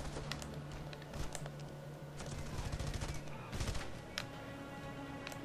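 Automatic gunfire in Red Faction: Guerrilla, rapid crackling shots in short bursts under a steady droning background, fairly faint overall.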